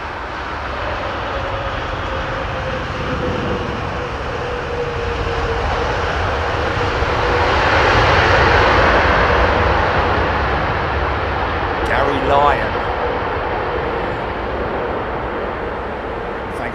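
A Boeing 747 passes overhead at London Heathrow, a broad, steady jet roar that swells toward the middle of the pass and then slowly fades, with a brief chirp of something nearby late on.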